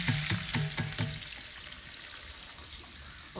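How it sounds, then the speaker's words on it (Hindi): Chopped onions drop into hot ghee with a burst of sharp crackles and pops, then settle into a continuous hissing fry, close and fairly quiet, with no voices. "यहाँ पर हमारे प्याज जो कटे हुए हैं हम इसमें डाल देंगे"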